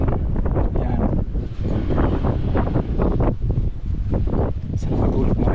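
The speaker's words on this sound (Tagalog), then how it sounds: "Malakas ang hangin." Heavy wind blasts against the microphone in a steady low roar, swelling and easing in repeated gusts.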